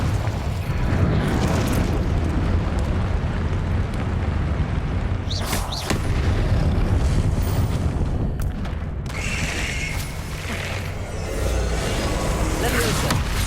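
Incendio and Confringo spells detonate in Hogwarts Legacy during a dragon fight, bursting in loud booms and fiery whooshes over a constant rumble of game effects, with a couple of sharp blasts standing out.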